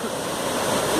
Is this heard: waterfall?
yes